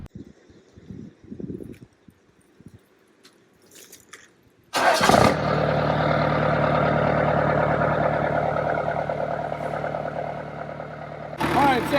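After a few words and soft bumps, a Cummins 4BT diesel engine cranks and starts, then idles loudly with a steady rumbling clatter close by.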